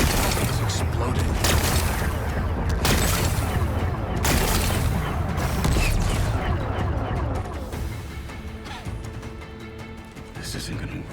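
Rock-blasting explosions in Horizon Forbidden West: rumbling booms and crashing debris come dense and loud at first, then thin out and fade, with spoken voices and game sounds mixed in.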